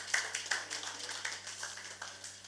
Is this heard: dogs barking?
no